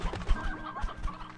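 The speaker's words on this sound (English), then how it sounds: "Now I do have a bit of a chicken infestation, as you can see." Chickens clucking in the video game Slime Rancher 2, a short burst of overlapping low clucks and squawks, close and fairly loud, with a faint steady tone underneath.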